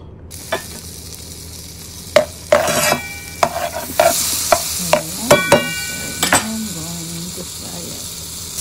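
Tilapia fillet fries in Country Premium butter, giving a steady sizzle broken by scraping utensil taps and clinks against the pan, with brief voice sounds in between.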